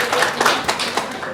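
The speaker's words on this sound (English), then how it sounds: "Give them a round of applause." An audience at a presentation gives a short round of applause, a brief burst of hand clapping with a voice speaking over it.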